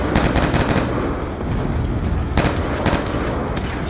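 Dense automatic gunfire and explosions from the Call of Duty Black Ops 2 campaign ending, loud and continuous with rapid bursts throughout, no talk over it.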